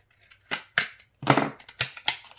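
Scissors snip through beauty subscription box packaging in a handful of crisp, close cuts, irregularly spaced, with brief quiet gaps between them.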